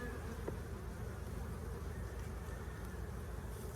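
Honeybees buzz densely and continuously around a beekeeper working a spring hive in southeast Alabama, a close, steady insect drone with no voices.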